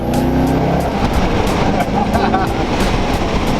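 A Chevrolet C5 Corvette with a V8 engine accelerating hard in first gear, a loud, continuous engine roar heard from inside the car, with voices talking over it.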